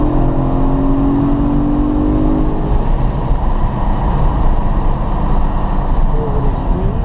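Race car engine at VIR accelerating under throttle, heard from inside as a loud, steady mechanical drone, with the revs climbing at first and then holding.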